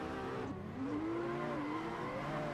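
A drift car in the Assetto Corsa racing game revs hard, its engine note dipping and then climbing into a sustained, loud wail, with no voices over it.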